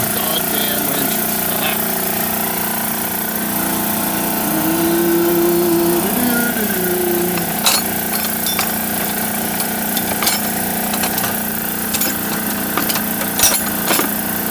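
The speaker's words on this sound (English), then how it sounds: "That compressor is so unbelievably loud." An air compressor runs loudly and continuously in a garage, a steady mechanical drone with a pitch shift partway through, while occasional clanks of tools and a voice break in over it.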